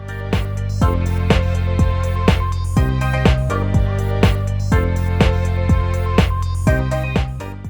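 A dance beat built in Pro Tools with stock plugins pounds along at a steady tempo, punchy kicks and snappy hits driving over dense layered chords and bass, loud and continuous with no voices.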